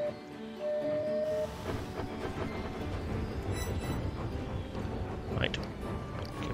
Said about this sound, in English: Let me get my train moving again.